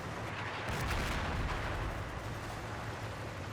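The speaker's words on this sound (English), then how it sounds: "Our mortars are starting to fall" Mortar fire falling in Combat Mission: Battle for Normandy, a dense, steady rumble of distant artillery with muffled, overlapping booms and no distinct separate impacts, heard alone without talk.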